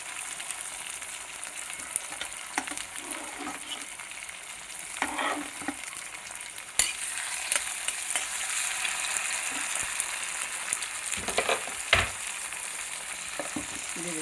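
Oil sizzles steadily in a pan while frying for kofta curry, a close, continuous hiss with occasional louder crackles and stirring clatters, and no talk.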